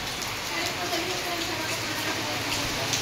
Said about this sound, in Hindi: देखो केते जोर से वर्षा होउछि।